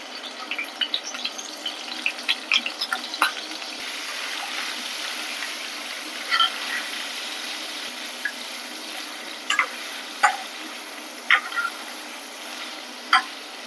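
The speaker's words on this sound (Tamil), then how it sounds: "இப்போ இதே எண்ணெயில் பன்னீரை வந்து ஃப்ரை பண்ணி எடுத்துக்கலாம்" Paneer fries in hot oil with a steady, bright sizzle, scattered spits and crackles popping over the hiss throughout.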